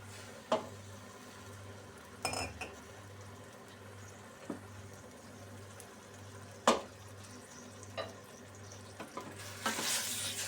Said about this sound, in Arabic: هنا غادي ندير الزيت، غادي ندير واحد شويه ديال زيت البلديه